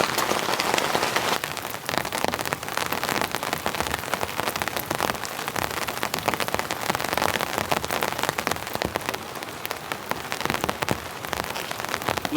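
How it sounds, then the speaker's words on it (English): Heavy rain drums steadily on a camping shelter in dense crackling patter, close and constant throughout, with no talk. "Looks like the rain's set in now."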